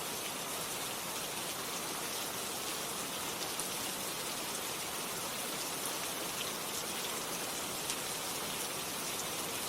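Steady, even rain falls without a break, a dense hiss of drops spread across the whole clip with no voices.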